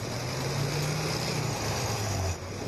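A military snowmobile on half-metre-wide rubber tracks, with its engine mounted behind the cab, drives over snow. A loud, steady engine drone runs alone throughout, dipping slightly near the end.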